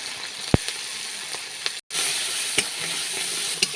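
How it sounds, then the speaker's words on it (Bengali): Prawns fry in hot mustard oil in a wok with a loud, continuous sizzle, broken by a few sharp clicks from the stirring spoon and one brief cut-out near the middle. "প্রথমে কড়াইতে সরষের তেল দিয়ে তেল গরম হয়ে গেছে, এবারে দিয়ে দেবো চিংড়ি"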